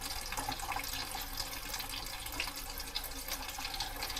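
Steady water flow hissing through a ThermoMate 4.5kW tankless electric water heater at a low rate, a constant faint rush with no talk.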